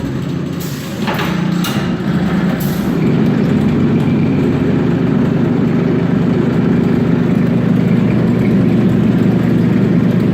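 Motor steadily driving the tensioned belt and pulley system of a gas damper demonstration rig, a continuous low mechanical hum with a brief clatter near the start, running alone throughout.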